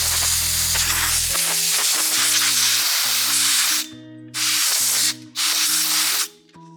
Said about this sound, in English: And now to compressed air.